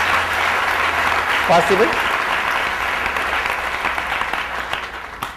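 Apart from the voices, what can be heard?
audience applause for the arrangement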